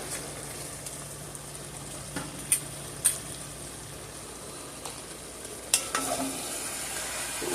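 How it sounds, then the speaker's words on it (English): A three bean chili with chopped Italian parsley is stirred in a pot, a soft continuous scraping and sizzle broken by a few sharp clinks of the spoon against the side, close and fairly quiet, with no talk. "We just stir that on in there"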